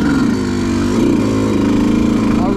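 A 2018 Yamaha YZ125 two-stroke dirt bike engine running close by, a loud buzzing idle that rises in pitch as the throttle is blipped.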